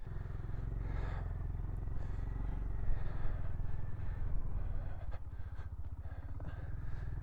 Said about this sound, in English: A GB350s from Honda.